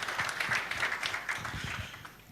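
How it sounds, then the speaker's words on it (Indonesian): A church congregation claps in applause at a sermon, a brief, fairly faint patter of many hands. "Ayo berikan tepuk tangan dulu yang masih bersemangat untuk belajar."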